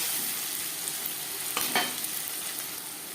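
Crushed garlic cloves frying in hot oil in a pan, a steady soft sizzle with a couple of brief stirring scrapes in the middle, fairly quiet and alone.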